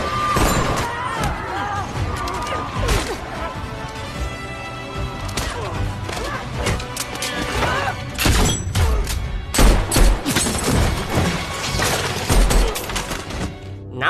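Gunfire in a scene from the action film Heads of State, loud repeated shots and crashes layered over a busy soundtrack with music and effects, while narration runs throughout.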